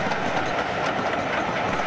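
A heritage train runs along the East Lancashire Railway in the Irwell Valley, either a mainline diesel or a mainline steam locomotive. Its steady, loud rail rumble and wheel clatter go on without a break, and no one speaks.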